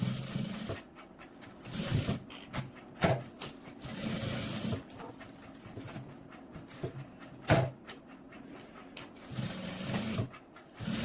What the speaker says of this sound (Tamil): ஃபுல்லாக தையல் ஓட்டி எடுத்தாச்சு